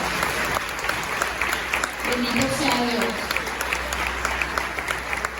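A church congregation applauds at a Catholic prosperity retreat, steady clapping filling the room while a voice speaks over it partway through.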